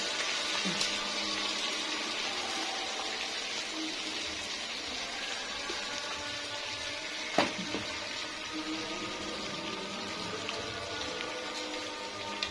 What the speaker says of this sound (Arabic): حط الميه بقى